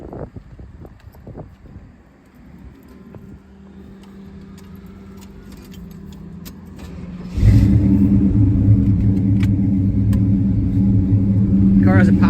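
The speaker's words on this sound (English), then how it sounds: "I'll start this car up for you." A 1971 Pontiac LeMans sport convertible sits quietly with faint rumble and wind noise, then its engine fires up about seven seconds in and settles into a loud, deep, steady idle, close to the microphone.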